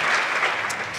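Short burst of audience applause for Katja at a Finnish public health presentation, steady broadband clapping through the whole moment at moderate volume.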